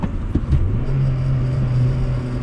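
A 2001 Honda Prelude with a five-speed manual is revved hard in second gear, producing a loud, close engine roar that climbs and holds steady, with no talking.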